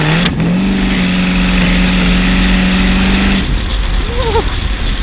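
A custom Chevy V8 motorbike engine revs up loudly, holding a steady droning pitch for a few seconds before cutting back, with a brief voice near the end.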